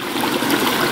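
Strong, steady rush of flowing stream water near a cave entrance, loud and close, with continuous broadband churning and no voices.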